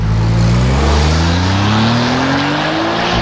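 A Porsche 997 Turbo Tiptronic making about 760 wheel horsepower accelerates hard at full throttle, its loud engine note climbing steadily in pitch for a few seconds with a rough, roaring exhaust.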